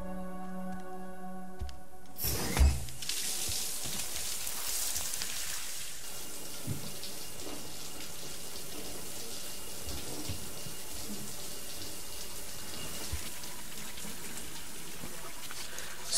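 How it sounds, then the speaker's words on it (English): Shower water runs in the video game Death Stranding: after a brief tonal passage, a sharp burst starts a steady, moderately quiet stream that splashes on for the rest of the clip. "Time to take a shower."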